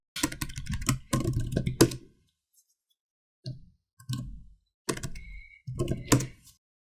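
Typing a command on a computer keyboard, with several short bursts of rapid key clicks separated by pauses and a final burst of keystrokes, close and clear.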